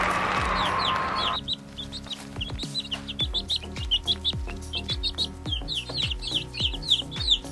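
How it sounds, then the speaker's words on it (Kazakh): A cartoon chick from a Kazakh children's animal cartoon chirps and clucks in a rapid, rhythmic run of short calls over bouncy music with steady percussive beats, after a brief whooshing opening. "Әрине, бұл балапан."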